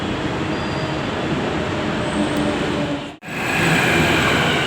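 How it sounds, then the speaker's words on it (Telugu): A loud, continuous rumble of a Hyderabad metro train arriving on the Nagole line, with a brief dip in the noise before it resumes just as strongly. "మనం వెళ్ళాల్సిన మెట్రో ట్రైన్ అయితే వస్తుంది, నాగోల్ మెట్రో ట్రైన్"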